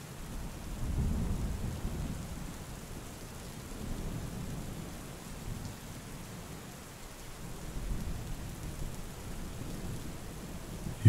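A thunderstorm with rain: a continuous wash of rainfall overlaid by deep, rolling rumbles of thunder that swell and fade several times, distant and muffled, with no voices.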